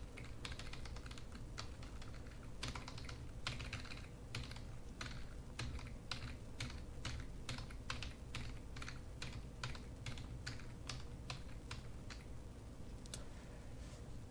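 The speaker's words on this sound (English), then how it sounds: "I'm just jitter clicking my key right now." A computer keyboard key is jitter-clicked rapidly, producing a long run of fast, sharp, fairly quiet clicks in uneven bursts, close by with no speech.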